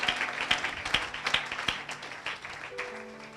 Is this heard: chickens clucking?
no